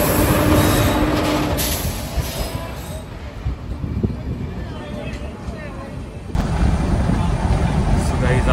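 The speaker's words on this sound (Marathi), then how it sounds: "सो फायनली ट्रेन आलेली आहे 6:55ला" A Holiday Special train arriving at a railway station, with loud rumbling rolling noise and a metallic high whine that eases off, then a sudden louder surge of rumble near the end.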